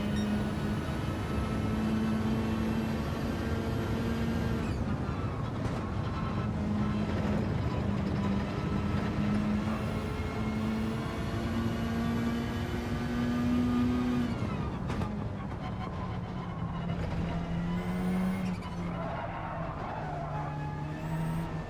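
A Gran Turismo 7 Audi TT race car in an online daily race at Dragon Trail Gardens drones steadily, its engine pitch rising and falling as it accelerates and shifts. It plays alone and fairly loud with no talking.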